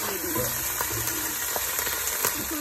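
Tuna and mixed peppers frying in a pan, a dense close sizzle with light stirring taps, steady and loud for its short length.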